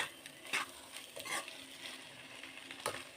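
Mutton brain (bheja) fries in a pan with a soft steady sizzle, broken by a few brief stirring scrapes, quiet and close with no one talking.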